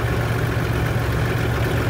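A steady low engine rumble runs continuously, close and constant, like a tractor idling with no breaks or voices.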